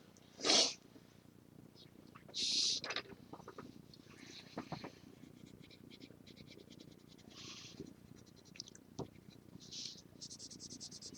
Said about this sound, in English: She's a pretty good cat.